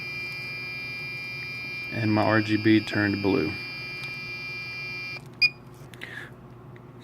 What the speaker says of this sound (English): The buzzer is buzzing a distinct alarm sound